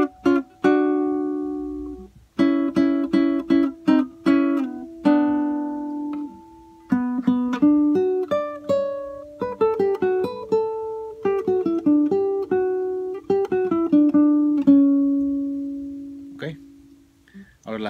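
Acoustic guitar picks out a phrase from a Peruvian waltz, with single plucked notes and short runs in a lilting rhythm and brief pauses between phrases, played solo and close.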